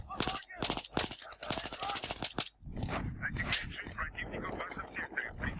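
Rapid bursts of automatic gunfire from an enemy in the shooter game Battlefield 3, loud and close at first, then giving way to a noisy battlefield rumble while someone talks.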